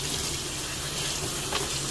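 Water runs steadily from a tap, splashing as it flushes through potted Phalaenopsis orchids, a continuous close gushing with no one talking.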